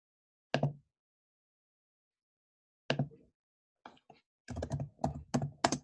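Bursts of typing on a computer keyboard entering a quote, a short cluster of keystrokes, a long pause, another cluster, then faster runs of clicks near the end, close and without talk.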